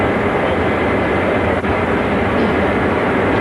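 An InterCity 125 train runs at speed on the line near Newark, a loud, steady rushing roar of wheels and air that holds unbroken throughout.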